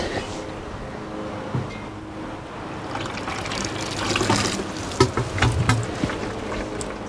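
Water pours and trickles from a small watering can onto an air-layered Saskatoon branch wrapped in cloth, a steady outdoor splashing that swells and dribbles for several seconds, close and moderately loud.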